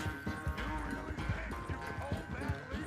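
Rapid clip-clop of a horse galloping hard during a horse race in Red Dead Redemption 2, steady hoofbeats up close with music and a voice talking over them.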